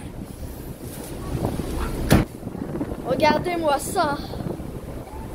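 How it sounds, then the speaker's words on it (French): Strong wind roars steadily across the microphone on a trip arriving at Al Hoceima, a constant rushing rumble with a sharp buffet partway through, while someone speaks briefly over it. "le vent il est trop fort"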